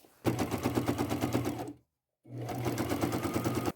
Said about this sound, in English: So I'm going to fold this over about 1/2 inch and sew.